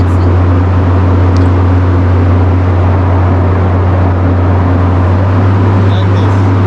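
A big fan in a Sri Lankan tea factory blows steadily, a loud, even roar with a deep hum that holds unbroken throughout.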